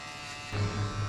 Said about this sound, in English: We will shave halfway by the shaver.